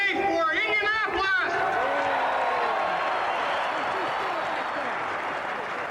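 Crowd at an NFL stadium event at the Hoosier Dome in Indianapolis cheering and applauding. A voice rises briefly at the start, then a sustained, loud roar of clapping and cheers follows.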